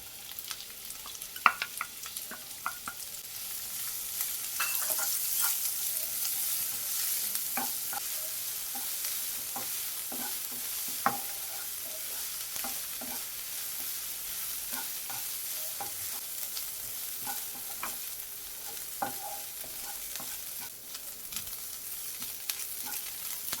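Finely chopped onions are sautéed in a pan for paneer bhurji, with a steady bright sizzle and repeated spatula stirring and scraping clicks throughout, and no voices.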